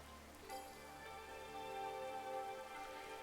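Steady rain falling in the Darkside Detective game, a soft, even hiss of raindrops layered under quiet sustained musical tones, faint and continuous with no talk.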